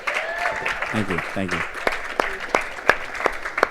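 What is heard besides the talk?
audience applause for coach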